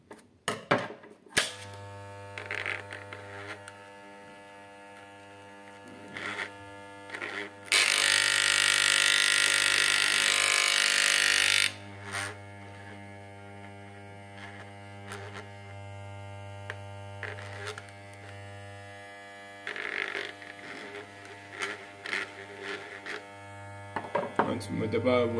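Electric hair clipper motor running in a steady buzz for about four seconds, with a low mains-like hum and scattered handling clicks throughout the rest of the clip.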